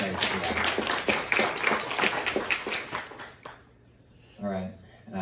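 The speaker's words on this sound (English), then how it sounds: "So let's give a round of applause and put some praise for that" A church congregation applauds and cheers for a cancer-free member in a dense burst of close clapping, which fades out before a voice starts speaking.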